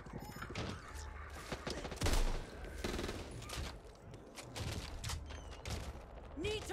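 Gunfire in the zombie shooter Back 4 Blood: repeated sharp shots and bursts crackle through the scene, with one heavy blast standing out, against a busy backdrop of game sounds.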